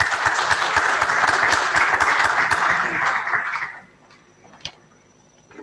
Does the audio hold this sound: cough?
no